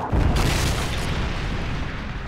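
A missile strike explodes in Call of Duty: Modern Warfare 3, a loud deep boom that hits at once and keeps rumbling as a sustained low roar for about two seconds.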